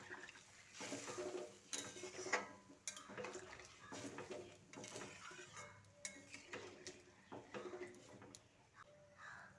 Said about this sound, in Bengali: এবার জলটা দিয়ে আলুর সঙ্গে ভালো করে মিশিয়ে নিচ্ছি।